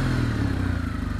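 A Kawasaki W800 Cafe 2019 retro parallel-twin motorcycle idles nearby with Euro 4 muffled exhausts, a low, steady rumble with a faint rhythmic pulse and no talk over it.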